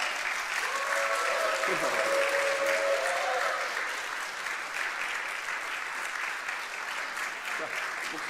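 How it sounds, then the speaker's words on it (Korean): Congregation in a church applauding during an elder ordination service, a sustained full round of clapping throughout, with a brief tonal murmur of voices or a note early on, then softening slightly in the second half. "여러분 크게 한 번 박수해 주시기 바랍니다"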